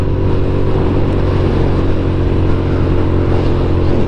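A Suzuki SV650 Gen 2 motorcycle engine running at a steady, loud, close drone with a constant low throb, no talking.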